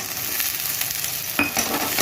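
Onions sizzle steadily while being stirred in a pan, a soft continuous frying hiss with a sharper scrape of the spoon near the end, close and alone.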